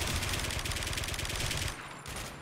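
Dense bursts of automatic gunfire rattle continuously in the shooter game Warmode, loud and rapid, easing slightly in the final moments.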